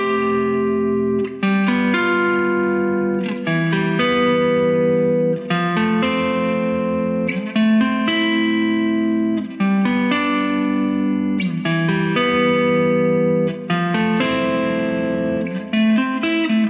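Electric guitar played through a plexi-style amp on the neck pickup, a distorted, sustained chordal riff ringing continuously and loud, close and alone with brief dips between phrases.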